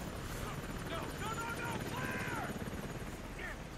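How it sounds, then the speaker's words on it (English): Helicopter in a video game, a steady rotor chop close overhead that runs the whole time under people talking. "Well, I guess the helicopter was loud."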